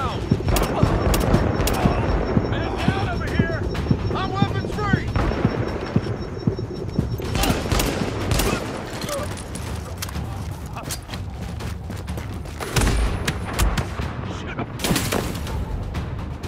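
Dense gunfire in Tom Clancy's The Division: rapid automatic bursts and single shots cracking over and over, loud and close, with a voice talking over parts of the firefight.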